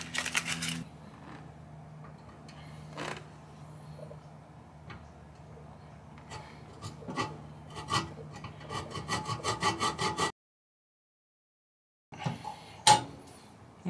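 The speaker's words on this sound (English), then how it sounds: "Time to hacksaw the baby off." A hacksaw cuts through metal on the seat base of a Ford Transit van during a swivel seat install, giving quiet rasping strokes that quicken into a fast rhythmic sawing run, then a pause and a final few strokes.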